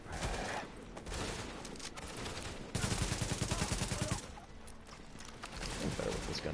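Video game gunfire, with bursts of shooting and a rapid automatic volley in the middle, fairly quiet and set against background game noise and a growling creature sound.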